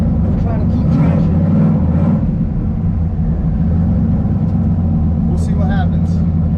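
A turbocharged Mustang rolls into acceleration on a drag strip without two-step, its engine a loud, close low rumble building steadily.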